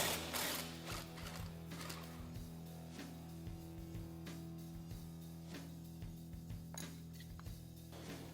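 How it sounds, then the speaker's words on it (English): A ratchet socket wrench with a 15 mm socket loosens bolts holding the rear knuckle to the trailing arm of a Polaris RZR XP 1000, giving repeated quick clicking ratchet bursts with short pauses, close and fairly faint, with no talk. "we're gonna go ahead and remove all of the 15 millimeters securing the knuckle to the trailing arm"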